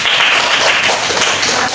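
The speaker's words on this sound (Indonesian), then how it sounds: "Beri tepuk tangan kepada Elis." A class in a microteaching session applauds a classmate, producing a dense, loud burst of hand clapping that fills the room from start to finish, with a voice faintly underneath.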